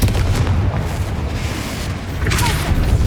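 A Confringo fire spell explodes in the Hogwarts Legacy video game as a heavy, rumbling boom, followed by continued low blasts and a brief brighter crackle near the end.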